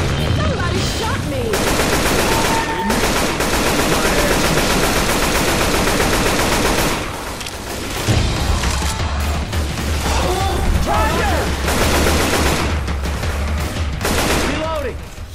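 Sustained gunfire in Left 4 Dead 2 during the Dead Center Atrium campaign, dense rapid automatic bursts and overlapping shots, loud and nearly continuous, with a brief lull around the middle and voices breaking through at times.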